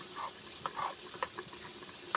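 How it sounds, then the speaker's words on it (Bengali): Boiled red lentils (masoor dal) being mashed with a small bowl in a pot, giving soft wet squelching and scraping strokes with a few sharper clinks, quiet and close, with no talking. "বাটি দিয়ে ঘুঁটে দেওয়া হচ্ছে।"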